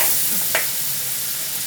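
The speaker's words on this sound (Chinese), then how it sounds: "这个要爆炒。" Pork kidney stir-fried hard in a wok gives a loud continuous sizzle close up, with one brief scrape of the spatula partway through.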